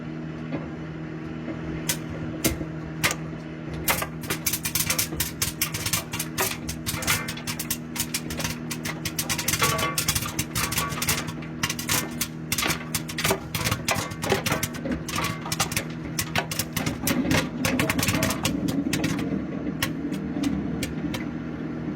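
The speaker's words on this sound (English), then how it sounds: "I can put it in a microwave" A microwave oven hums steadily while popcorn pops inside, sharp irregular cracks that begin sparse, grow rapid and dense midway, then continue over the constant low drone.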